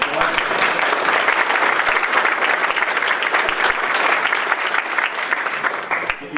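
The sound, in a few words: applause from parish meeting audience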